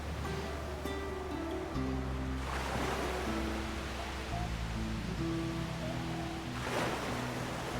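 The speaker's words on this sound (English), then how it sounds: "The waves are loud." Loud ocean surf from the video game Bannerlord roars steadily throughout, with wave swells building around the midpoint and near the end, while music tones sit underneath.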